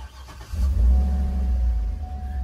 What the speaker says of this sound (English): The key is programmed and the engine started.